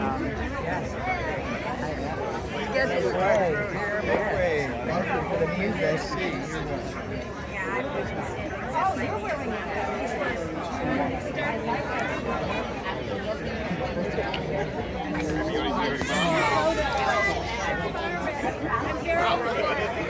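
Crowd chatter fills a tribute gathering honoring local men, a steady babble of many overlapping voices close around, with footsteps and movement mixed into the busy, continuous hubbub.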